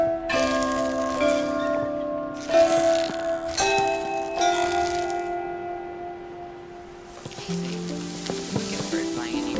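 Chime-like musical call of the crested owl in the Botany Manor video game, a sequence of bell-like tones ringing in clear bursts with sustained decays, followed by a softer, busier stretch of notes.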